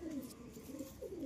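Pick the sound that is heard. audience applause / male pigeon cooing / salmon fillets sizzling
male pigeon cooing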